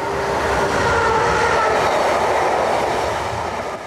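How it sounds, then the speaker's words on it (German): A train speeds past a station platform with a loud, sustained roar and rushing wheel noise that fades slightly at the end. "Lebensgefährlich bei dem hohen Tempo der vorbeirasenden Züge."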